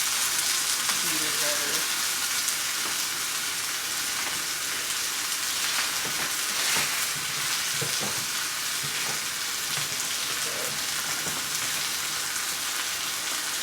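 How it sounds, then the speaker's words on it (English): Pot roast meat searing in a pan, a steady broadband sizzle of frying fat running throughout, with a faint voice briefly over it. "just really frying it up to cook the outside"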